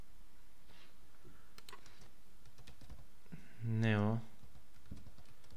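Light clicks of typing on a computer keyboard come in short bursts during a quiet indoor session, with someone speaking briefly partway through.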